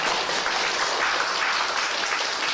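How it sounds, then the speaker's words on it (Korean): A church congregation applauds, a dense, steady wash of many hands clapping together at full volume for a brief moment. "박수로 감사합니다."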